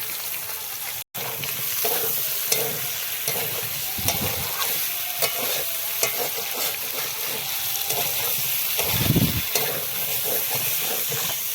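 Small potatoes sautéing with chopped tomato in a hot pan for aloo dum, a continuous sizzle and hiss broken by the scrape of stirring, with a short dropout near the start.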